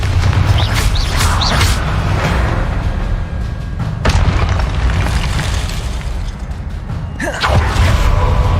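Spell blasts from Hogwarts Legacy gameplay: loud booming explosive bursts, a sharp one near the four-second mark and another near seven seconds, over a dense rumbling game soundscape.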